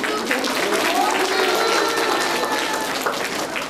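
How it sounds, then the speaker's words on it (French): Schoolchildren and adults at a Bastille Day gathering in a school applaud to welcome a new staff member, dense steady clapping from a crowd with some cheering voices mixed in, close and lively throughout. "Applaudissez pour Tina."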